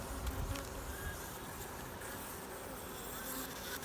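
A male honey bee drone held by the legs by a beekeeper at an open hive, its wings beating in a steady, close, continuous buzz that stays loud and alone for the full stretch.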